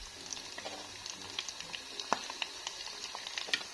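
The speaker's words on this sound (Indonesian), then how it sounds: "Aku makan, aku gorengkan ini" Food frying in a pan at home, a soft steady sizzle with scattered small pops and crackles, quiet and close, with no one talking.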